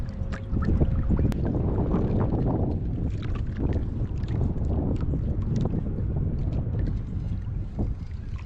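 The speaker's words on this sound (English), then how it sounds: "Man, it's windy out here today." Strong wind buffets the microphone out on a fishing boat, a loud continuous rumbling roar with water sloshing against the hull.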